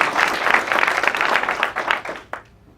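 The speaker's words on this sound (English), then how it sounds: "loud applause for our local sponsors." Loud applause from a Startup Weekend Albuquerque audience for local sponsors: a burst of many hands clapping close and dense, thinning to a few last claps before trailing off into quiet.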